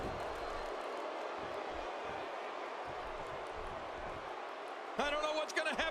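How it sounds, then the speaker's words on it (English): A virtual arena crowd in the wrestling game WWE 2K16 roars as a continuous broad wash of cheering, with a commentator's voice cutting in near the end. "Would you listen to this crowd show their appreciation for these amazing competitors?"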